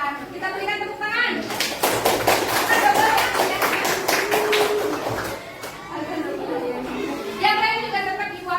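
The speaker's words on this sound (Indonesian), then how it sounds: "Kita berikan tepuk tangan." A group of participants in an online class clap for a fellow student, a burst of quick, uneven claps in the middle flanked by a teacher's voice speaking before and after.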